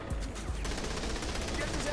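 Rapid gunfire in the crime action game Saints Row: The Third, a quick cluster of shots at the start followed by sustained, noisy firing, with voices mixed underneath.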